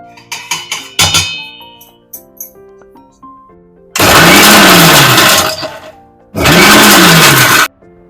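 A mixer grinder whirs loudly through roasted ingredients in two long bursts of a few seconds each, with a clear pause between them, after some light clinking of utensils at the start.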